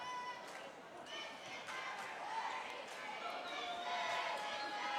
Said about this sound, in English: you can hear the crowd not necessarily agreeing with these calls